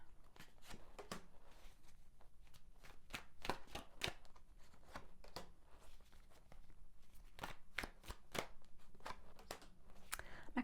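Tarot cards are shuffled in quick, repeated riffling snaps, close and quiet, with an irregular rhythm of sharp card flicks throughout.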